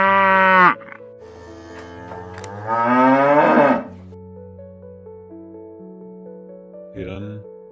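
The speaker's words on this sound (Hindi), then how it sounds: "गाय" A cow lets out one loud, drawn-out moo that rises and then falls, set over light background music, with a short voice before it and another brief voice near the end.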